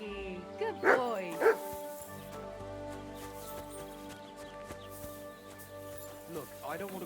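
A dog barks and yips a couple of times early on in Kingdom Come Deliverance 2, amid game music and ambience, while a voice speaks over it.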